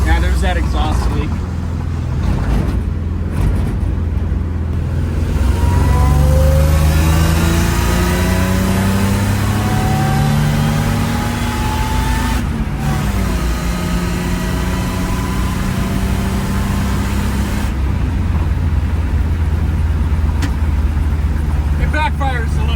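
A loud supercharged Gen 5 engine with an M90 supercharger and an exhaust leak revs up and falls back several times, rising whines over a deep rumble, with a sharp backfire pop or two along the way.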